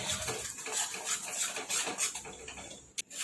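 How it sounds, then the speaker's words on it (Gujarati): Besan (gram flour) being roasted in a pan for moong dal kachori, with a steady soft scraping and stirring, light metallic clinks of a spoon against the pan, and one sharper knock near the end. "હવે આપણે બેસનને શેકી લેવાનું છે સારી રીતે।"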